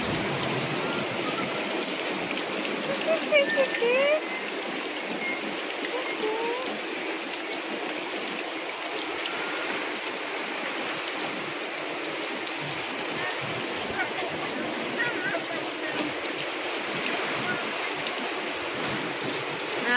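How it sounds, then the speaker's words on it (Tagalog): Torrential rain from Super Typhoon Uwan beats down on a flooded backyard in a constant, rushing roar like running water, steady and loud from start to finish. "Lakas ng ulan."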